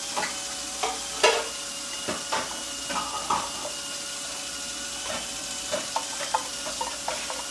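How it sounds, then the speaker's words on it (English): Tomato puree stirred into sizzling spaghetti sauce in a pot, giving a soft steady sizzle broken by irregular scraping and clinking strokes from the stirring spoon. "Now we're gonna add in the puree."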